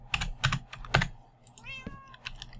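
A Minecraft cat lets out a short, quiet meow near the end, following a few soft keyboard taps with a faint hum underneath.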